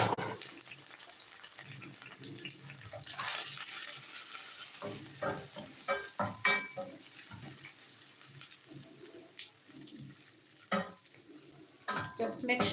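Onions frying in a pan for home cooking, with a steady sizzle and intermittent scraping stirs of a utensil, close and moderately quiet, no talking.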